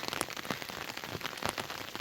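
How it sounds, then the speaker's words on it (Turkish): Steady rain patters on a surface, a dense continuous hiss with scattered louder drops, close by and with no voices. "hiç durmak bilmiyor ama yağmur"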